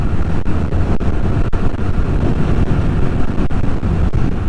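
Heavy, constant wind buffets the microphone while motovlogging on a motorcycle, a loud close roar of broadband noise broken by brief dropouts, with no voices.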